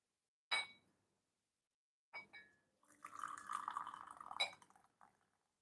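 Wild black tea rinse poured away from a small vessel: a couple of sharp ceramic clinks, then a short stream of liquid splashing with further clinks, quiet and close.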